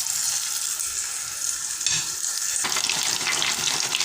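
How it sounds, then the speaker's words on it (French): Battered shrimp fritters (accras de crevettes) fry in hot oil, a close, steady crackling sizzle that grows busier and louder partway through, with no talking. "je verse dans mon huile chaude"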